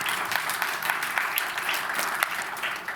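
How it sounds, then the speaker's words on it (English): An audience at a climate and health event breaks into applause, a dense, steady patter of many hands clapping continuously at moderate volume. "Yes, a round of applause."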